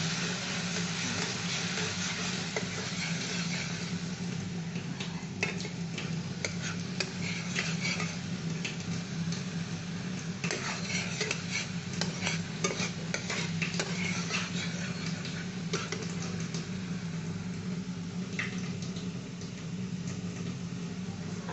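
Tomato sauce thinned with a little water being stirred in a pan, a steady scraping and stirring with light sizzling and occasional utensil clinks against the metal, continuous and close with no talking.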